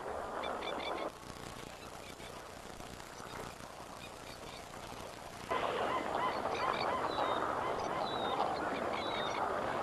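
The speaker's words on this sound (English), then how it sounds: "Hundreds of catfish are trapped in a quiet backwater and become a feast for Australian pelicans." A flock of Australian pelicans feeds on hundreds of catfish trapped in a quiet backwater, with steady honking and grunting calls and splashing over a busy outdoor wash that swells louder partway through.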